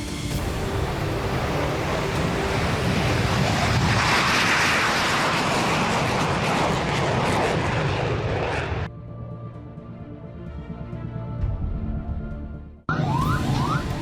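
Israeli F-16 and F-35 fighter jets take off with a loud, broad jet roar that builds and sustains for several seconds. It cuts off abruptly, leaves a quieter hum, then the roar returns briefly.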